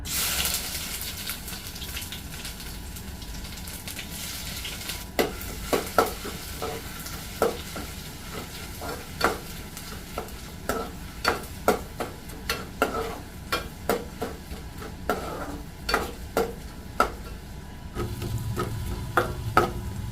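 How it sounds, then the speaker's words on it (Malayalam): Ginger frying in coconut oil makes a continuous close sizzle, broken by frequent sharp scraping and tapping from stirring in the pan, with no voices. "ഇനി നമുക്കിത് ഓരോന്നായിട്ടിട്ട് വറുത്ത് കോരിയെടുക്കാം. ആദ്യം ഞാൻ ഇതിലേക്ക് ഇഞ്ചിയാണ് കേട്ടോ എടുക്കുന്നത്."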